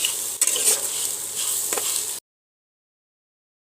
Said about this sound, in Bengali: দিয়ে দিলাম এখানে লবণ হলুদ দিয়ে এটাকে একটু কষাবো, ভালো করে কষাতে হবে